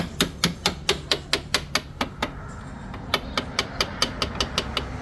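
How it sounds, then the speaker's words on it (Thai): Sharp metallic hammer strikes driving a steering rack seal into place on a van, about ten quick blows, a short pause, then another run of evenly spaced hits, close and fairly loud. "ตอกซีน เข้าไปนะครับ"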